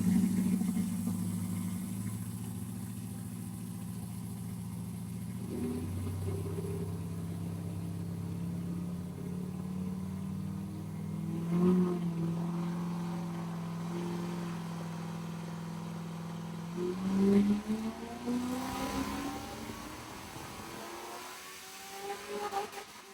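A C6 Corvette drift car with an LS V8 is run on a dyno in fourth gear. The engine hums at a steady mid-level drone, then steps up in stages as it climbs through a long pull, and it ends with a rising rev near the close.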